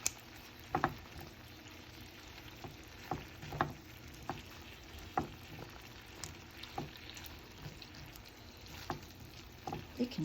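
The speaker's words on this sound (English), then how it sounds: "while it's frying in the pan" Soft crackling and sizzling of Polish sausage, potatoes and green beans frying in a pan, with scattered small pops and taps over a low steady background.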